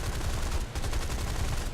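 Machine guns on a Seafire XVII fighter rattle in War Thunder realistic air combat, a dense continuous burst with steady pounding low thumps and crackle, loud and close, briefly dipping once before resuming.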